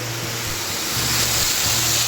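Water pours into a pot of curry in a steady, loud, broadband rush that continues throughout at close range.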